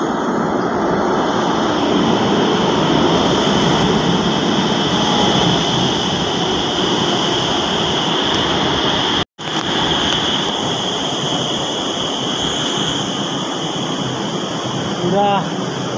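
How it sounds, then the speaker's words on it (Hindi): A metro train pulls into a new station in Agra, its steady loud rumble and hum filling the platform with a brief dropout midway, while someone talks over it. "ये आ रही है मेट्रो"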